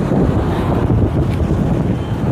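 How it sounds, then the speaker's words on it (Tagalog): Strong wind buffets the microphone outdoors with a loud, steady low rumble and no let-up, with faint water or surf noise underneath. "Lakas ng hangin."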